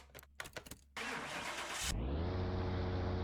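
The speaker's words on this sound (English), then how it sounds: "That's a V12 whine if I've ever heard one." A V12 engine in a Chevrolet Astro delivery van in the game Car Mechanic Simulator 2021 cranks with a few short starter bursts, catches with a loud surge, then settles into a steady, loud, whining idle.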